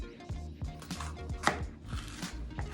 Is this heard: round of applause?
no